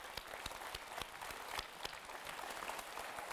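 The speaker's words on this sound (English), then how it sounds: "let's give them all a round of applause for their accomplishments" A graduation ceremony crowd claps steadily in sustained applause, dense and fairly loud throughout, with no voices over it.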